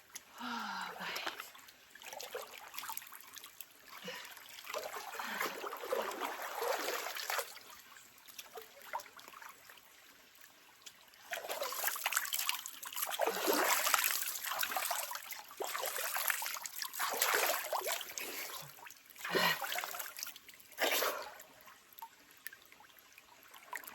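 River water trickles and splashes around people bathing in a river in rural Jamaica, soft and close with louder swells of sloshing; faint voices come and go in the background.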